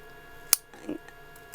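Two crisp scissor snips about a second apart, close and quiet, as small incisions are cut into quilted patchwork fabric for a sewn pouch, with a soft rustle of cloth between them.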